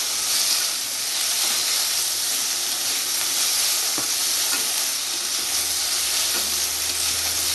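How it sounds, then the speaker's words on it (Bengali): Cumin paste frying in a pan while being stirred, for a Bengali-style lau chingri (bottle gourd and shrimp): a loud, continuous hiss of sizzling oil with a few soft scraping stirs. "জিরা বাটা দেবো জিরাটা একটু নাড়াচাড়া করবো"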